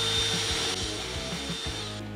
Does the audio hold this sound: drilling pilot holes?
yes